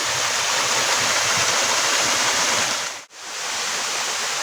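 Steady, dense roar of water plunging straight down at Parayaruvi waterfall, a clear spring-fed fall active in the monsoon, filling the scene continuously with a brief dip near the end.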